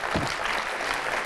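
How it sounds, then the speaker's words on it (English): Keynote audience applauding in a large hall, a dense, steady wash of clapping throughout the short stretch with a brief louder swell near the start. "Another big round of applause for Gunnar"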